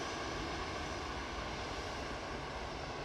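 An Airbus A320 airliner departing Manchester Airport for Gran Canaria gives a loud, steady broadband engine roar that fills the whole stretch without a break.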